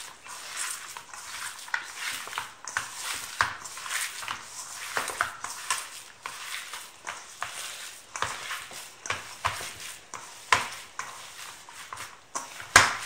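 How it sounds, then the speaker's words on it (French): Kefta meat mixture being kneaded and mixed by hand in a bowl: soft, irregular squelching and patting with occasional light knocks, close and moderately quiet. "je mélange le tout pour former un mélange bien homogène"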